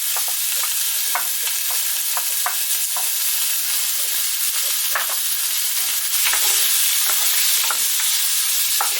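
Meat for bigos, the Polish hunter's stew, browns in a hot pan with a loud, steady frying hiss and repeated scraping stirs throughout.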